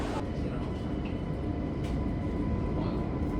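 A CAF-built Barcelona metro train runs with a continuous loud rumble and hiss, with brief clanks and a faint voice.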